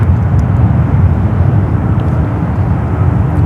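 A United Boeing 777-300ER jet taxiing at San Francisco International Airport, a loud, steady low engine roar and rumble filling the air without a break, close to the listener.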